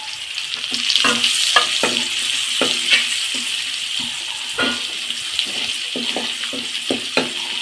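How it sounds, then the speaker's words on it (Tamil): Garlic and onion sauté in a pan with a continuous sizzle, broken by repeated quick scraping strokes of a spatula at an uneven rhythm, close and moderately loud. "பூண்டு பச்சை வாசமே இருக்கக்கூடாது நல்லா வதக்கணும் அதோட வெங்காயத்தையும் போட்டுருவோம்"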